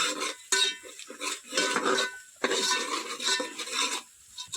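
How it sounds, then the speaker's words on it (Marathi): A spoon scrapes and stirs spice masala through hot oil tempering in a pot over a village wood-fired stove, with jackfruit and dried shrimp being cooked; repeated close scraping strokes sound in uneven bursts, no voices. "आता फिरवून घेते फोडणीमध्ये"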